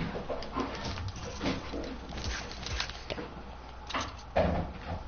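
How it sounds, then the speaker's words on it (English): A dog at its food bowl, with whimpers, metal bowl clatter and scattered bumps running through the whole stretch and a sharper knock near the end, picked up close over a gaming microphone. "My dog with the dumb dish."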